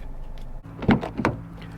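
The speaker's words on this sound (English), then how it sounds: "shutting the door here" A rear door of a 2021 Kia K5 GT-Line swings shut from inside the car, giving a solid thud followed by a second latching knock a moment later, close and fairly loud.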